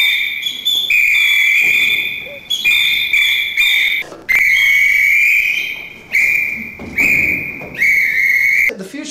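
Loud shrill whistles blow repeatedly in bursts during whistle dancing, several overlapping pitches, with crowd noise between blasts.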